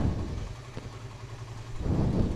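A motorcycle engine idles quietly while warming up, held around 1200 to 1300 rpm. It makes a low, even rumble with slight rises in level at the start and end.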